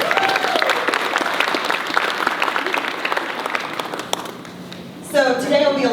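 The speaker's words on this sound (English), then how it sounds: "If we could give Credit Union of America some applause." Lunch-event audience applauding a sponsor, a steady wash of many hands clapping at full volume that fades slightly before a voice begins speaking near the end.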